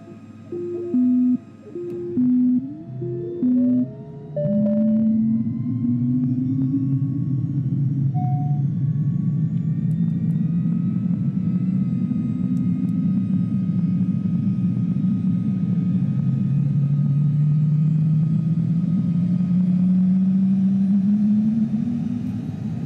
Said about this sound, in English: let's turn the engines on so we're not wasting battery